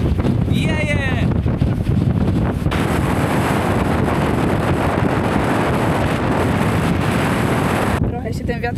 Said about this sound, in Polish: Trochę się ten wiatr uspokoił